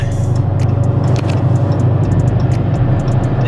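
A Daytona Charger drives along the road to a shop, its engine a loud, steady close rumble with ticking interior clicks over the top, and no talk.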